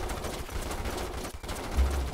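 Troopers fire their guns in Starship Troopers Terran Command. Dense, continuous automatic fire rattles at steady volume with no pauses.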